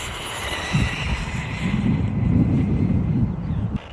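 An Arrma Mini Kraton RC car on an outdoor speed run from a rolling start, a rough roaring rush building quickly and holding steady before fading, with wind noise.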